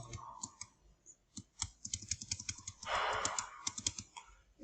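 Computer keyboard keys are pressed repeatedly while indenting text in an Excel cell, giving close, quiet, irregular clicks and taps with a brief denser burst partway through, no speech.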